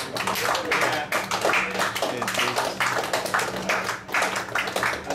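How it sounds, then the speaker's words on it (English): An audience gives a round of applause, dense rapid hand clapping that runs steadily and fairly loud throughout, with no voices over it. "we should acknowledge Martini with a little round of applause"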